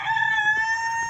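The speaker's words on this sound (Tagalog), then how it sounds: "Ayan yung aking mga manok." Rooster crowing in a backyard garden with chickens, one long sustained cock-a-doodle-doo call filling the moment, close and loud, with faint low background murmur beneath.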